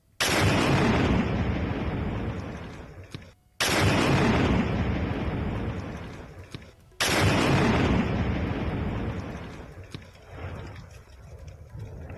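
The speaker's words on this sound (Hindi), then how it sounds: "सुरक्षा बलों ने डुल इलाके में गुफा को विस्फोट से उड़ाया है।" Three massive blasts in a row as security forces blow up a cave in Kishtwar, India, each a loud broadband roar that rumbles and slowly decays before the next one hits.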